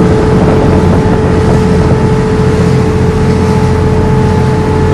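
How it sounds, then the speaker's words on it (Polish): A loud motorboat engine on the Atlantic Ocean drones steadily and close for the whole stretch, with a constant hum and rushing water and wind noise, and no voices. "ten dźwięk silnika jest straszny"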